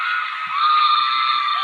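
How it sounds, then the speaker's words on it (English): A large crowd screams and cheers in a loud, sustained roar that swells slightly and holds steady throughout, with no individual voices standing out. "That's a lot of people screaming, man."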